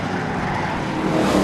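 Sport trucks race around Seekonk Speedway, a continuous loud roar of engines passing close by with some tire noise, no talking.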